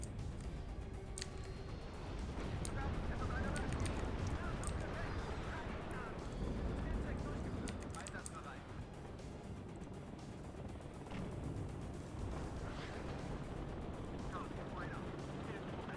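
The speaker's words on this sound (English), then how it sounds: "especially because our fellow tanks are firing" Tanks fire during a battle in the real-time strategy game WARNO, with repeated booms and scattered gunfire at mid distance over a continuous rumbling battlefield din.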